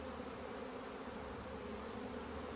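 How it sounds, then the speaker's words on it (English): Honey bees buzz in a steady, dense drone around an opened hive frame of capped brood during queen-rearing preparation, close and continuous with no talk. "the bees are not very happy"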